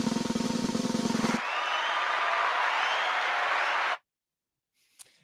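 Audience applause at a 2021 fintech awards ceremony: dense, sustained clapping from a crowd that swells, holds steady for several seconds, then cuts off abruptly, followed by near silence.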